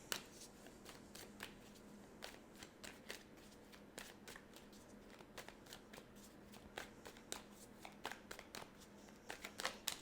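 Tarot cards shuffled by hand over a steady low hum, crisp riffling snaps and flutters recurring irregularly throughout with no pauses.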